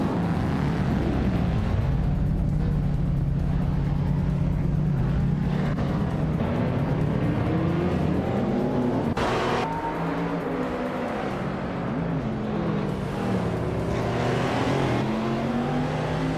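A 2000 BMW Z8 race car drones steadily at speed, its engine pitch rising and falling as it accelerates and eases off, with no break in the sound.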